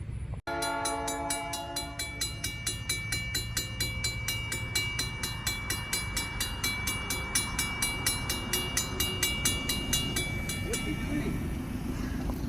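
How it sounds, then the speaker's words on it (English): A 34-car rock train on the Cincinnati Eastern Railroad rolls past close by with a steady rhythmic clickety-clack of wheels over rail joints and a deep rumble underneath, and a voice speaks faintly at times. "Got a train coming."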